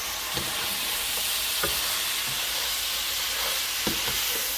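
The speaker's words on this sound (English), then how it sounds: "the meat has been browning for the last 5 to 6 minutes" Mutton sizzles steadily as it browns in a hot pot for mutton curry, a constant dense frying hiss with occasional scraping stirs and soft clinks.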